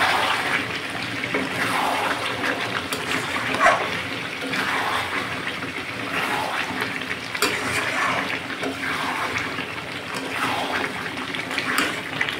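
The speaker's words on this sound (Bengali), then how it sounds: "এবার জল দেওয়ার সময়" Water pours into a pan of chicken curry cooked with taro, a steady running splash with rhythmic surges, close and moderately loud throughout.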